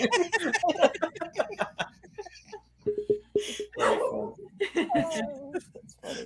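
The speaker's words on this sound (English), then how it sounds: "Sorry, my dog's barking." A pet dog barks and yips intermittently at home, several short sharp bursts in the background while people talk over it.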